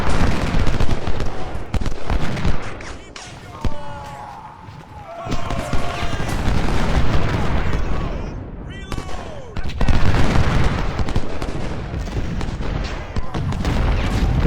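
Cannon fire and massed musket volleys from the Civil War strategy game Ultimate General rumble and crackle continuously as dense, loud, overlapping bursts and booms, with someone talking over the battle.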